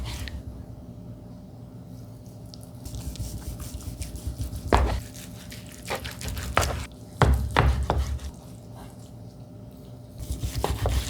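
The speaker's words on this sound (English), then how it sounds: "We're gonna slice up the control brisket" A knife slices through a conventionally cooked control brisket, producing soft, moist cutting and squishing sounds up close with occasional sharper taps of the blade against the board.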